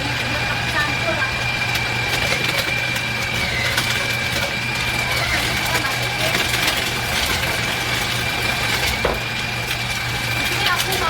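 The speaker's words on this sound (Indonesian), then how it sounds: "Sekarang kita giling ya. Aku pakai food processor." A food processor grinding a meatball mixture for spicy bakso runs as a steady, loud motor drone with a constant hum throughout, close up and continuous.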